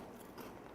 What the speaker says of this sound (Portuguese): Realmente está crocante esse biscoitinho de queijo